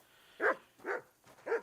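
A dog barks three times in the medieval video game Kingdom Come: Deliverance 2, short evenly spaced woofs, moderately close and otherwise alone.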